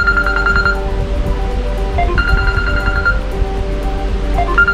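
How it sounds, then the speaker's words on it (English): Phone ringtone set off by a Google Nest Mini voice request, playing as a repeating melodic tone pattern in short bursts over a steady low background hum, fairly loud and close with no talking. "Okay, your phone should be ringing now."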